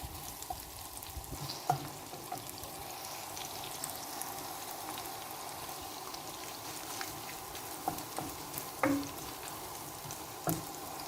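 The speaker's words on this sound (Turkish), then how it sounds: "havuçlarımız tadını verip suyunu verene kadar soteliyoruz" Carrots sauté in a pan for a quick curry chicken dish, giving a steady close sizzle with scattered light crackles and a few stirring clinks throughout.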